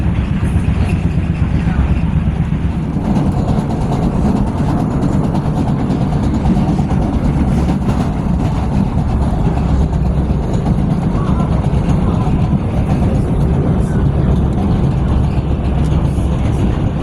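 PATH train riding toward Newark Penn, New Jersey: a steady, loud rumble of the rail car in motion fills the whole stretch, with constant low-end roar and clatter throughout.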